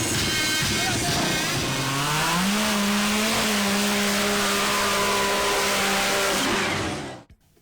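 Supercharged dune buggies, ATVs, modified SUVs and motocross motorcycles race on desert sand dunes in the Al Dhafra region of the UAE. One loud, close engine revs up in pitch, holds a steady high drone, then cuts off abruptly.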